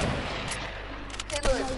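Gunfire in a squad shooter video game, a few sharp shots and heavier booms near the end, with faint game sounds underneath.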